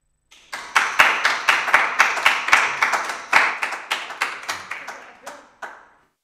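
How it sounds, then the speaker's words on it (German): Audience applause after a lecture on a German writer's life, a close, crisp burst of clapping with distinct individual hand strikes that builds quickly, holds for about five seconds, then tapers off into silence. "Sie haben den Applaus gehört"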